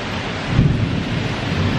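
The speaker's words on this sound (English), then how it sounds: "It's thunder and lightning and a massive rainstorm." Heavy rainstorm with thunder during a flood period in Iwate, Japan: a steady, loud broadband wash of rain noise with a low rumbling swell that builds near the middle and holds, with no voices.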